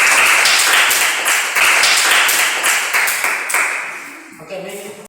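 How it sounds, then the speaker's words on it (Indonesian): Classroom applause from a group of students, a dense burst of hand clapping lasting several seconds and tapering off near the end, loud and close. "Tepuk tangan dulu."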